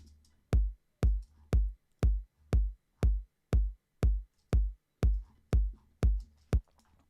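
Long, massive kick drum from an Afro House track, about a dozen deep booming hits in an even steady pulse, each decaying with a lingering low tail, heard solo and loud.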